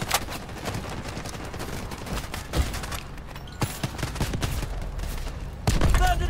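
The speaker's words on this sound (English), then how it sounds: "Artillery ready for barrage." Gunfire and explosions in the Delta Force video game's rush mode, with rapid bursts of shots and heavy blasts rolling continuously, and a loud impact near the end.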